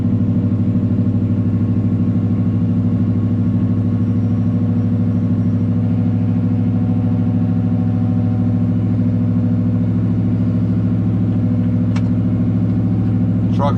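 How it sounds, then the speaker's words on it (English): A truck engine idles high with a steady, loud, constant hum and a faint mechanical clatter, broken only by a brief click near the end. "The truck is idling high"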